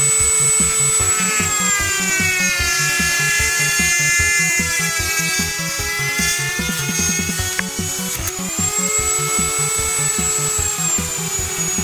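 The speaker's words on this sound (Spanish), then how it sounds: "Voy a tener que cortarlo entonces desde un poco más abajo y darle forma" A small power rotary tool grinds and cuts into a plastic MEKANEK Origins toy figure piece, a continuous high whine with a pulsing buzz, loud and close, steady for the whole stretch without talk.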